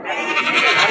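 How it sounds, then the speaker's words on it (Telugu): Goats bleat in a dense, overlapping chorus at a busy weekly goat and sheep market in Allagadda, loud and close, with market bustle underneath. "ఇలా మేకలు."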